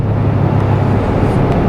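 A Voge 500AC motorcycle engine cruises at 3000 RPM in sixth gear, a steady low hum mixed with wind and road rumble, close and continuous with no talk.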